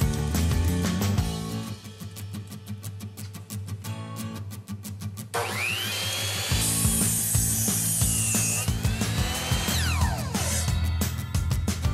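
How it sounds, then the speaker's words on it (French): A saw cuts 2x6 wooden boards for deck steps in a close, loud sequence, rapid rhythmic strokes giving way to a sustained power-tool whine through the wood, with no talk. "mesurez et coupez des 2 par 6 pour faire les marches"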